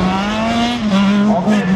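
A 914 race car runs a slalom course at Le Neubourg in 2017, its engine holding a loud, steady droning note that dips and rises slightly as it works through the gates.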